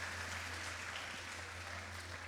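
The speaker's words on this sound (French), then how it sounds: "applaudissez encore le saxophoniste Ruben pour sa prestation." Quiet, distant applause from a church concert audience for a saxophonist, a soft continuous patter of clapping over a low electrical hum, lasting about two seconds.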